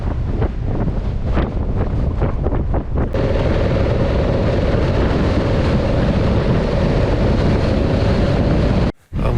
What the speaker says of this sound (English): Take a look at the tree there blowing in the wind. That's how strong the wind was.